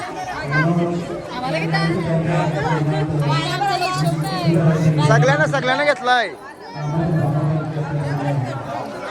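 A large crowd chats at a Hanuman Jayanti community feast in a village, a close, dense babble of many voices with individual speakers rising above the hubbub.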